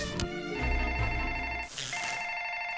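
A telephone bell rings steadily and fairly loud for about three seconds, heard from a film scene with no talking over it.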